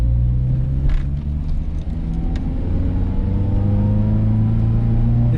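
A 1981 Volkswagen Passat LS drives along, its engine humming in a steady low drone with mild rises in pitch as it pulls, heard from inside the car with no talk.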